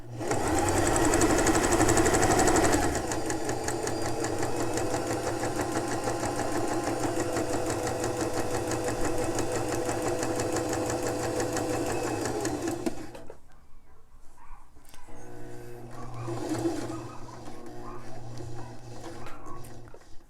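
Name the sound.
sewing machine stitching elastic onto a fabric face mask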